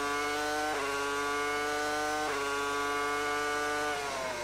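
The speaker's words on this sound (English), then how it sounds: "That engine singing well, isn't it?" A 2002 Formula 1 car engine screams at high revs onboard at the Canadian Grand Prix, steady and loud, with two sharp upshifts.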